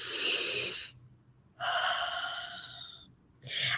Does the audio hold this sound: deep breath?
yes